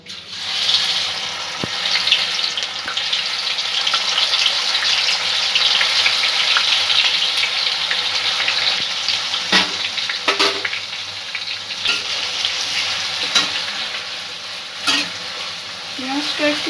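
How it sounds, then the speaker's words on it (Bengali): Onion paste frying in a pan over a low-to-medium gas flame, a steady close sizzle with occasional stirring scrapes, running unbroken without speech. "পেঁয়াজ বাটাটা দিয়ে দেবো।"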